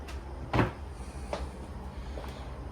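A kitchen cabinet drawer or flip-up door opens in a small apartment, a soft thud followed by a few light knocks and rattles, fairly quiet over room background.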